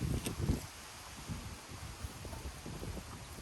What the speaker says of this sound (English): Even though it's not hot, it's windy.